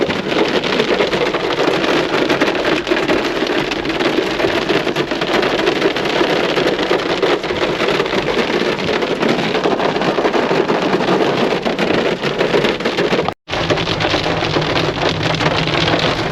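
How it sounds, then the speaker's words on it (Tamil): Heavy rain pours onto a road in stalled traffic on a drive from Chennai to Sabarimala, a loud, unbroken roar of drops with one momentary cut-out. "3/4 மணி நேரம் செம மழை பெய்யுது."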